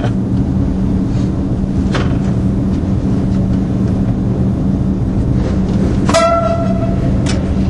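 Trains cross on the Rungis–Brétigny line, a loud continuous rolling rumble with metallic screeching near the end and a sharp horn-like tone that holds briefly before fading.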